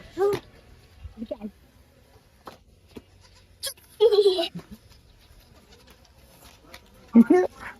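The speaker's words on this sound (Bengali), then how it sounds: "নম্রতার ছাগল দুজনে তিরিং বিরিং করতেছে।" Goats bleat in short, separate calls now and then, with quiet gaps and scuffling between them, and a voice speaks briefly nearby.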